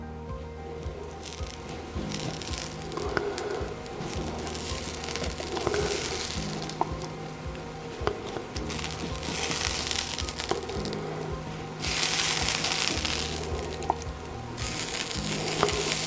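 Half-melted butter sizzles faintly on hot buttermilk biscuits, a soft crackling hiss that comes in bursts as the butter is spread, quiet and close.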